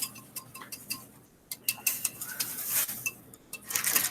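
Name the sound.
whisking dipping sauce for spring rolls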